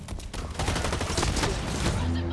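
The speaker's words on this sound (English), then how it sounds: "I shot him in his kneecap with my revolver" Rapid revolver gunshots from the shooter game Blacklight Retribution, a dense run of sharp cracks fired close and loud with a brief voice in the mix.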